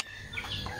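Farm chickens eating commercial pellets mixed with vitamins cluck in brief, faint calls, with low background noise underneath.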